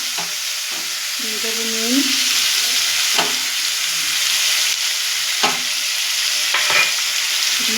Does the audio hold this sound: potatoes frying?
yes